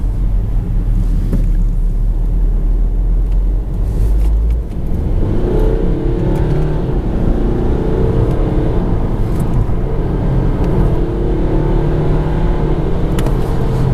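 A 2015 BMW 320d F30 diesel being driven, heard from inside as a loud, steady engine drone with road rumble. The pitch dips once, like a gear change, then climbs again in a smooth pull, with no talking.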